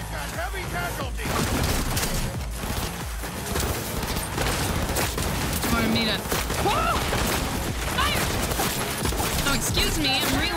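Gunfire in the video game Cyberpunk 2077, a dense, continuous fusillade of shots and booms that fills the whole stretch at high volume, with faint game voices mixed in.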